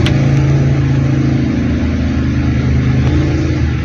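An Isuzu C240 diesel engine in a jeep idling, a steady loud close-up rumble with a constant low throb and no change in pace.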